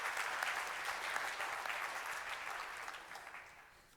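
Steady applause from a conference audience at an award announcement session, moderate and fairly distant, slowly fading over a few seconds.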